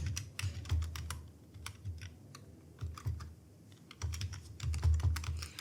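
Quick bursts of keystrokes on a computer keyboard while entering spreadsheet data, close and fairly quiet, with short pauses between typed words.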